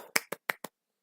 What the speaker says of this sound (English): Ooh, tiny clap.